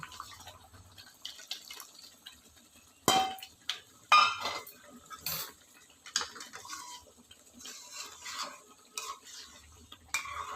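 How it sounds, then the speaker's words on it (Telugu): Tamarind extract goes into a pot of simmering brinjal curry, giving soft splashing and drips, then scraping and metallic clinks of a spoon against the pot, fairly close and intermittent. "చింతపండు పులుసు తీసుకున్నది వేస్తున్నాను"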